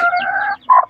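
A hen gives a short drawn-out call followed by a brief second cluck, loud and close, under a second long.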